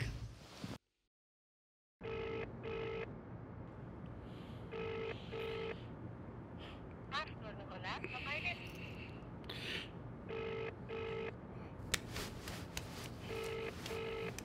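A phone left behind in a room rings with repeated paired electronic bursts, faint and somewhat distant, while voices talk softly nearby.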